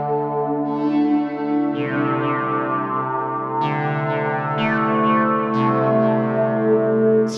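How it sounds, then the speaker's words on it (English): Distorted electric guitar chords bloom into a spacious software reverb wash from Arturia V-Collection 9, with strummed accents decaying slowly into a lingering tail. "Reverb's lovely as well."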